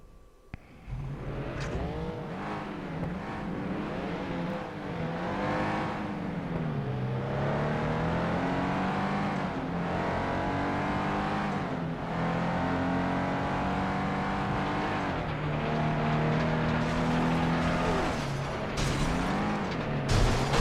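Race cars in FlatOut 2 on PS2 roar continuously, with engines revving up and down through gear changes, loud and sustained throughout without any talk.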